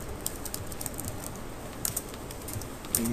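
Rapid, irregular keystrokes on a computer keyboard, soft and close, forming a steady patter of clicks with a few sharper taps and no voices.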